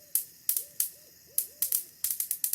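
An owl hooting from not far away, several soft, rounded hoots in a loose sequence, interrupted by loud, sharp electric zapper snaps in irregular bursts.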